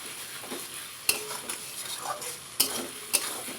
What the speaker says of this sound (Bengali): মশলাটাও তেল ছেড়ে দিয়েছে অনেকটা কষা কষা হয়েছে